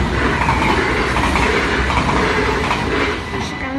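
A train rolls past on the railway at Maasbracht, a loud, steady rumble with wheel clatter and rail noise that holds for several seconds before easing slightly at the end.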